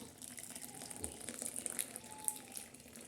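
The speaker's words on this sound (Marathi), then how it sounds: "हे बघा सर्व गरम पाणी भाजीचं काढलेलं आहे" Hot water is poured off boiled wild greens, a soft, steady splashing and trickling stream with small bursts of droplets, fairly quiet and close.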